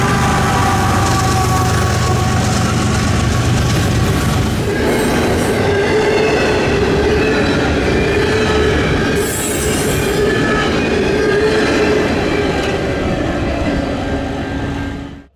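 Freight train led by a GEVO locomotive passing Gary's Pine Junction, a loud continuous rumble of wagons with squealing wheels, a steady drone and brief high squeals, rolling on until it cuts off.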